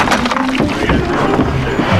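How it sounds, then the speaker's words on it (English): Canoe paddling on a lake, with continuous water splashing and sloshing against the hull close by, mixed with wind buffeting the microphone over two seconds. "Man, canoes are the bomb. This is way better than a kayak."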